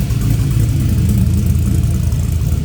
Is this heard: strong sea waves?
no